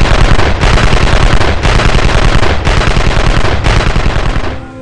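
Sustained automatic gunfire from the villain lair game Evil Genius, loud and continuous in rapid bursts with brief dips in intensity, no talk over it.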